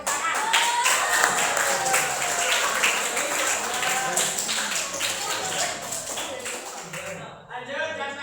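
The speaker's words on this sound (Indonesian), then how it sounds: "Pakai tepuk tangan." Hand clapping from a group, likely children, answering a riddle game in Indonesian, steady rapid claps for about seven seconds with voices mixed in, then stopping abruptly.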